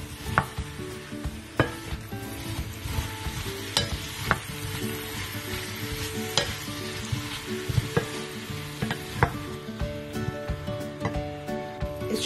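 Apple and jackfruit filling is stirred in a hot pan, a steady close sizzle broken by regular sharp scrapes and clacks of the utensil against the pan, with no talk.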